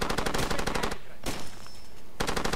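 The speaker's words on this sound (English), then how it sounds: "enemy with a shotgun over there, so it's getting intense" Rapid, loud gunfire in the video game Far Cry 2, fast repeated shots that stop for about a second, then a single sharp blast, and then another rapid burst near the end.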